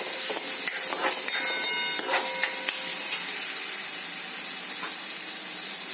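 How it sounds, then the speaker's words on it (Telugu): Onions stirred in a hot pan for gongura chicken, a steady frying sizzle with light wooden scraping and tapping strokes, close up with no voices. "ఆనియన్స్ కొంచెం ఇలా కలుపుకుందాం."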